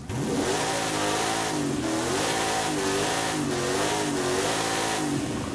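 A 7.2-liter V8 swapped into a drift car in Forza Horizon 5 revs aggressively, loud and close, its pitch rising and falling in repeated throttle blips over a constant rumble.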